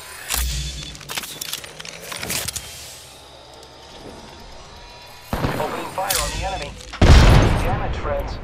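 Enemy gunfire in the game Apex Legends crackles in bursts: sharp clustered shots early, then renewed rapid volleys and a heavy loud burst near the end, with voices speaking between the shots.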